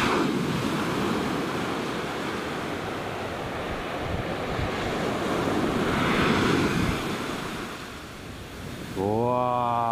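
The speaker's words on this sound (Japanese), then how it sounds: "ちょっと強い波が来たぞ。" A strong ocean wave surges and crashes close by on the shore, a long roaring wash of surf with wind buffeting the microphone, ending in a brief tonal sound.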